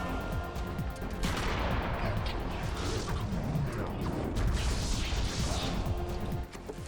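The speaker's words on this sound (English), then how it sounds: "we're gonna have to shotgun him" Repeated shotgun blasts and crashing impacts fill a fight in the horror game Eternal Darkness, loud and dense from start to finish, with a faint voice now and then underneath.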